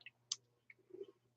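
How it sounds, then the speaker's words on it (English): A diamond painting drill pressed into place gives a few sharp, quiet clicks scattered across a brief, otherwise hushed stretch, with a low steady hum underneath. "when you put it in there, it makes this cool clicking sound"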